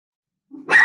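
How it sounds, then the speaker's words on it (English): A dog barks in the background at a city council meeting, a single sharp bark that starts suddenly after silence and comes through clearly, close and fairly loud. "my apologies about the dog barking in the background"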